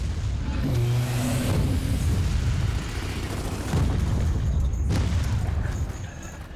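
Exposed core being blown up in Gears of War 4, heavy booming blasts and rumbling gunfire that stay loud and dense across the clip, with a strong burst near the start and another around the fifth second.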